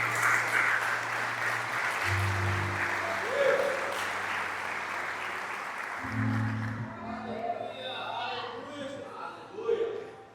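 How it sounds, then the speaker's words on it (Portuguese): A church congregation claps in applause to the Lord as a sermon continues, with a preacher's voice speaking and carrying over the steady clapping throughout. "aplauda o Senhor"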